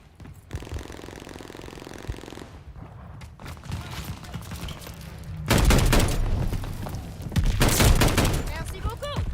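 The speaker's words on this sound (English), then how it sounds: "They're sending mortar shells!" Mortar shells and gunfire in the Call of Duty Vanguard video game crash in loud, dense bursts of explosions and rapid shots, with heavy booms and rattling fire building toward the end, and a voice speaking over the battle.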